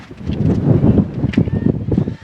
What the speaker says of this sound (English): Wind picking up again. Here comes a little bit of a gust again.